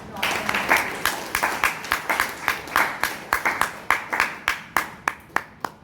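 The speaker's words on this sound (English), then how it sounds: "let's give a big round of applause for" Audience applause at a Toastmasters meeting in Bangalore, a steady run of sharp claps from a small group that thins out toward the end, leaving a few scattered final claps.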